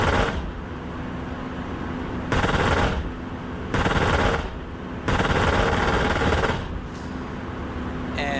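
Spitfire machine guns fire in bursts during a ground attack run in the DCS flight simulator, three long loud rattling volleys of about a second each over steady engine drone, with a brief fourth burst near the end.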